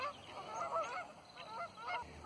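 A flock of about 40 to 50 Canada geese honking repeatedly, many overlapping calls at moderate distance, steady and busy throughout with no talking.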